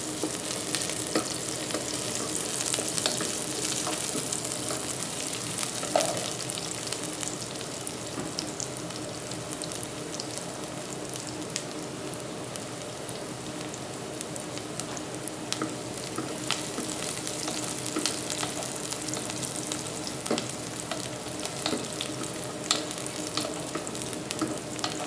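Chicken pieces fry with onions in a pan for creamy chicken sopas, giving a continuous close crackling sizzle with occasional stirring clinks and scrapes throughout.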